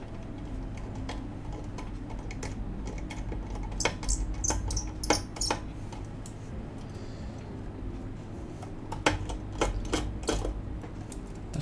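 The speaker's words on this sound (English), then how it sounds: "I unscrewed them, but they take a bit of force to come out" Small metallic ticks and clicks from a screwdriver working stuck screws loose from a KBD8X MkII keyboard case, irregular taps and scrapes close up over a low steady hum.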